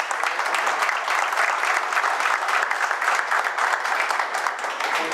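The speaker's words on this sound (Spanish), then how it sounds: "Quiero que se den un aplauso a ustedes," An audience of parents at a school workshop bursts into dense, sustained applause, loud and even throughout with no talk over it.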